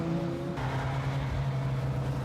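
A classic Italian car engine driven hard on a racetrack, a continuous loud mechanical drone with a shift in pitch partway through, heard up close and alone.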